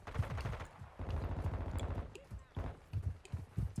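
Rapid automatic fire from a slimmed-down AK-47 variant in Call of Duty: Modern Warfare II, sustained bursts with short pauses across the span, loud and close, with a voice talking over it.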